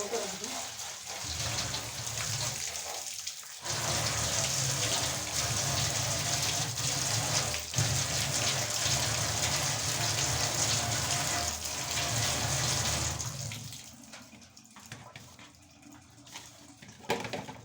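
A bowl is washed under a running kitchen tap, a steady rushing flow of water lasting about ten seconds before cutting off. A voice talks near the start and end.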